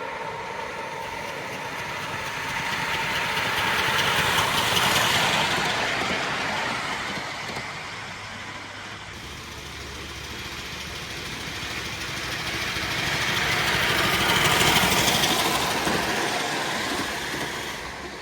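A model locomotive runs on a track at the IMLEC model engineering competition, a steady rumbling, chuffing drone that swells twice as it passes near and recedes, with no talk.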